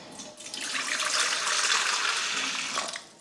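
Water runs steadily into a container for pizza dough, a continuous hissing pour that swells in and then cuts off after about three seconds, with no talk.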